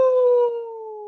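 A human voice imitates a long howl in the dark, a single sustained wavering tone that slowly drops in pitch and fades, heard alone and close.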